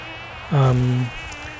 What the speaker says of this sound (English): the lady here being pestered by the bee